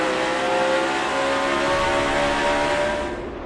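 A NASCAR Sprint Cup stock car at New Hampshire roars loud and near with a steady engine drone whose pitch rises and shifts, then fades slightly at the end, with no talk over it.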